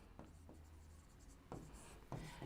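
Someone writes on a board during a classroom noun lesson, with a few faint scratchy strokes over a quiet room hum and no talking.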